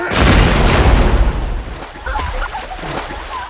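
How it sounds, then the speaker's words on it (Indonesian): A grenade explodes in a film with a loud, close, deep booming blast that rumbles and slowly fades, leaving faint scattered debris and clatter after it. "dia langsung meledakkan granat di tangannya"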